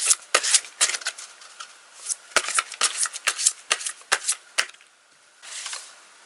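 Tarot cards are shuffled by hand, a close series of quick crisp riffles and slaps in irregular bursts, pausing briefly before a softer rustle at the end.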